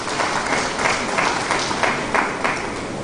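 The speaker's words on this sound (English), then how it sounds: "I think she deserves a very big clap for that" A crowd at the launch of the Organisation of African First Ladies for Development applauds the First Lady, a steady, dense wash of clapping with faint rhythmic pulses running through it from start to finish.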